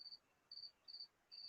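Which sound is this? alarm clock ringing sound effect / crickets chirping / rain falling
crickets chirping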